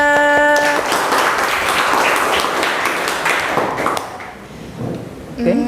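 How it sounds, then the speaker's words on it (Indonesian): A classroom audience claps for a student named Octavia, a steady wash of applause for about four seconds that then thins out, with faint voices near the end. "Tepuk tangan untuk Octavia"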